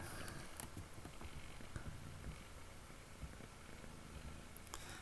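A big, nervous cat purrs up close in a steady, continuous low rumble with faint soft rustles, and no one speaks.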